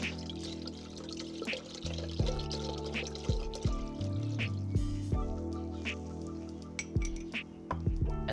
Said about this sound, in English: add water. Fill that pot